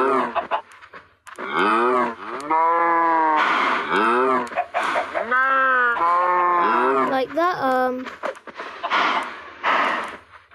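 Minecraft cow lowing in a series of loud, drawn-out moos, several in a row with short gaps between them, close and prominent.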